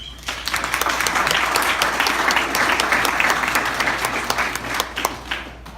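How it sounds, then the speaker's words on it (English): An audience at a real estate investor meet-up applauds to welcome a speaker, a loud, steady burst of many hands clapping that swells quickly and fades slightly toward the end. "big round of applause for her to welcome her here"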